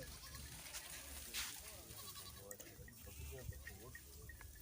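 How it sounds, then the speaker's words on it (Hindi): A large herd of goats with cows at a herders' pasture, several goats bleating repeatedly at close to mid distance over a steady outdoor background, with a person talking throughout. "ये बकरियां, गाय काफ़ी तादाद में हैं"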